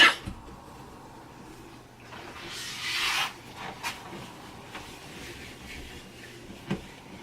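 A pad wipes French polish across a wood finish, making soft, close rubbing strokes with one longer hissing swipe and a few faint taps in an otherwise quiet room.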